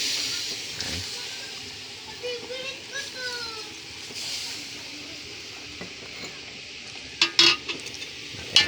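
Meat stewing with Sprite in a pan is stirred, soft sizzling under scraping and a few sharp metallic clinks near the end, while people talk.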